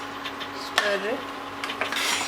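A spoon scrapes and clinks against a pan while stirring grated coconut paste for lamb paya gravy, a few short metallic rubs and taps close by.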